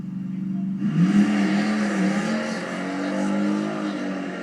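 A 1972 Grand Torino and a 2018 Mustang launch down a drag strip, a low engine drone swelling abruptly into a loud roaring rev about a second in and holding steady, fairly close.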